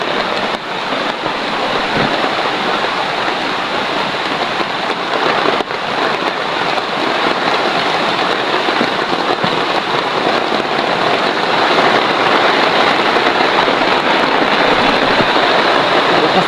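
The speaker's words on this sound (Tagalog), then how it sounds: "Lakas ng ulan ito mga idol. Sobrang lakas ng ulan." Heavy rain pours steadily as a dense, loud hiss of drops drumming on surfaces, unbroken from start to finish.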